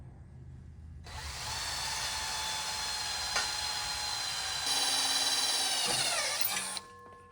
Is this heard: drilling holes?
yes